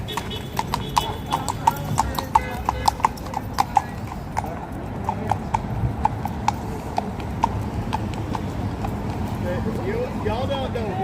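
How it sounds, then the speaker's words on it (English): Police horse hooves clop steadily on pavement at a street protest in Portland, Oregon, a sharp, close, regular series of strikes lasting throughout, with crowd noise and voices talking in the background. "Let me know how long that horse has been here."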